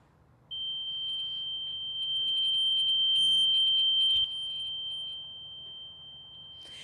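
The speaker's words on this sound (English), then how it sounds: "As you can hear, the fire alarms went off at the hotel as they were supposed to." Hotel fire alarm sounding a steady, piercing high electronic tone that runs continuously, moderately loud against a low background rumble, with a faint pulsing beep overlay.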